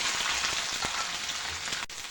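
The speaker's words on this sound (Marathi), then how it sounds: "कढईमध्ये तेल घातलं आता हे कारलं घालायचं" Bitter gourd pieces sizzle in oil in a wok, a soft, continuous frying crackle heard alone over a couple of seconds, ending with a sharp click.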